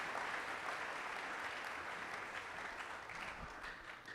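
A congregation at a French-language Catholic prayer gathering applauds to acclaim the Lord, with steady, dense clapping filling the room for several seconds and tapering slightly toward the end, no voices on top.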